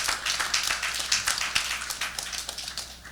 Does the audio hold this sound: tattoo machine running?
no